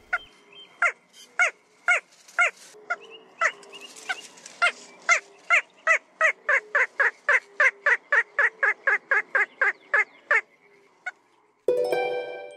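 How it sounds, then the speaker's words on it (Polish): Little crake calling from a reedbed, a long series of short, evenly spaced yapping notes that speed up slightly toward the end, moderately close, followed by a brief burst of noise. "A zielonka to taka mała, bardzo skryta, niby kureczka."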